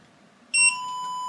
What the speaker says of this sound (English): that's set to 1 kHz output, and I've got that hooked up to the speaker, which is why it's beeping